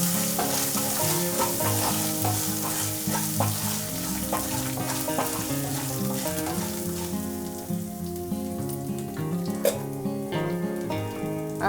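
Chitranna rice with salt being stirred in a frying pan over a steady, close sizzle, with soft scrapes and clinks of the spoon scattered through it and no voices.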